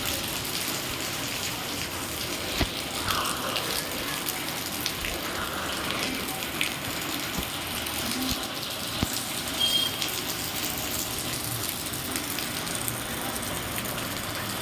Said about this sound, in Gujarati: આ આખી રાત વરસાદ ચાલુ હતો સતત રાત્રે નવ વાગ્યાથી આવો જ વરસાદ છે